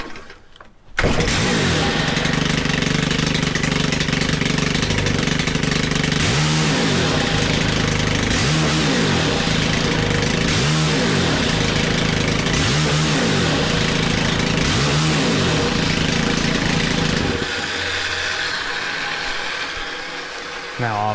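A small Stihl engine with a fault fires up and runs roughly near at hand, its pitch surging and sagging in repeated revs that keep stumbling, then dropping to a weaker, lower running note before the end; a voice talks over it.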